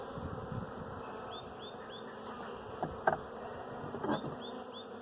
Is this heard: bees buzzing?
yes